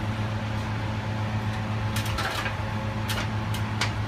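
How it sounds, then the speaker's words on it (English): A freezer coldroom compressor hums steadily close by, a low mechanical drone with faint clicks and scrapes as it starts up while the unit runs warm with a failed condenser fan. "Compressor kicks in."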